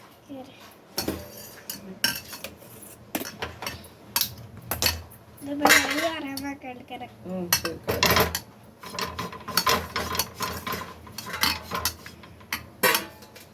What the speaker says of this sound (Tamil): கரண்டியில் போட்டு கலக்கு.